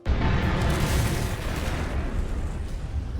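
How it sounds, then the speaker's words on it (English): A powerful underground gas explosion in a coal colliery, a loud, sustained roaring blast that bursts in abruptly and rumbles on without fading, with no voices over it. "A terrific blast awoke the sleeping town of Wrexham."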